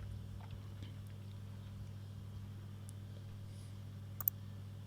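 A computer mouse gives one or two faint, sharp clicks near the end over a steady low electrical hum, otherwise quiet with no talk.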